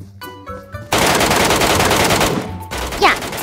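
Rapid automatic gunfire rattles in a shooter video game, a dense loud burst of about two seconds after a few tonal interface notes, followed by a brief pause and more game sounds.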